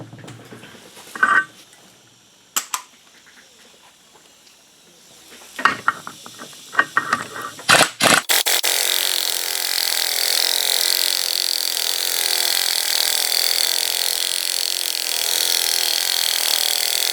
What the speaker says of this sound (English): I had my impact gun on low because I want to know if something's bottoming out and not working.